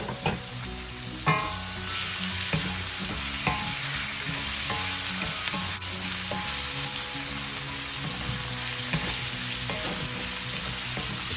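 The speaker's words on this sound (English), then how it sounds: "Once we're done sauteing our liver," Pork liver sautéing in a pan for saucy egg-noodle pancit canton, a steady close sizzle broken by scraping stirs and utensil knocks against the pan, with no talking.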